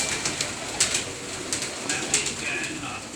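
Pigeons coo softly and repeatedly in a loft at a pigeon club, and someone talks over the steady low cooing.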